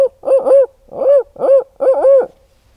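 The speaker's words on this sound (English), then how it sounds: "Hear them owls hitting down there?" Owls hooting outdoors in Iowa deer country, four loud, close, rounded hoots, some doubled, spaced about half a second apart against an otherwise quiet background, with no voices.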